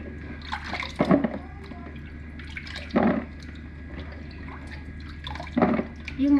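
Sour fruit is put into salt water to soak, with a few separate splashes and drips about a second apart over a soft background hum.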